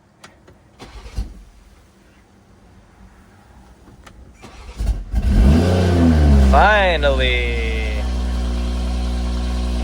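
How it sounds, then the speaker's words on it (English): A BMW M340i running on E50 fuel cold-starts after a few faint clicks and a long crank, then catches with a loud rev flare that settles into a steady high idle, close by; a voice exclaims briefly. "Every time I try to cold start with the E50, it takes forever."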